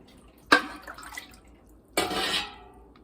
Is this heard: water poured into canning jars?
yes